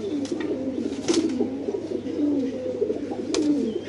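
A pigeon cooing close by in a coop, with repeated rolling low coos running continuously over the few seconds, clear and fairly loud.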